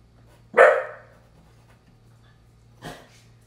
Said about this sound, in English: Now, there's my dog barking.